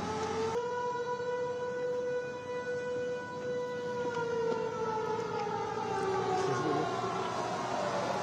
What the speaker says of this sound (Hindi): जम्मू के कई इलाकों में सायरन की आवाज